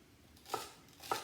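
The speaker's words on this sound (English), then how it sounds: "So we are going to do a little bit more chopping here." Two crisp knife chops on a cutting board, spaced about half a second apart, cutting vegetables such as celery for Cajun red beans and rice; close and fairly quiet with no talking.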